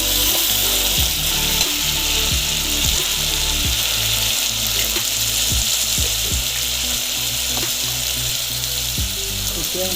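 Masala paste of ginger and garlic sizzles and fries steadily in a hot pan, a continuous crackle with occasional stirring scrapes and no talking.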